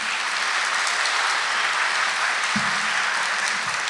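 Audience applause at a public debate for the Fukushima prefectural governor election, a steady dense clapping wash from a large hall crowd, sustained at full level throughout without speech.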